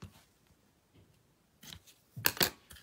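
Scissors cutting paper craft pieces for Christmas projects, a few soft snips early on followed by a louder cluster of sharp cuts near the end, close and alone.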